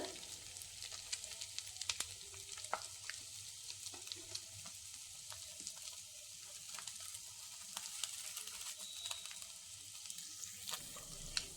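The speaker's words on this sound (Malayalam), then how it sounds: "എല്ലാ പീസും മറിച്ചിട്ട് കൊടുത്തു മറു സൈഡും കൂടി മുരിഞ്ഞ് കിട്ടട്ടെ" Pieces of food fry in an oil-filled pan, giving a steady crackling sizzle with scattered sharp pops and occasional scraping as they are flipped to cook the other side. No one speaks.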